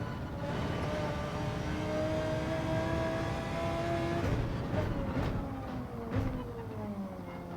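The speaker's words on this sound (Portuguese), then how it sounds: "Sente um pouquinho mais o motor e o barulho do carro." Car engine in the racing video game Gran Turismo 7, a steady whining drone with tones that climb and drop between gear changes, moderately loud and continuous.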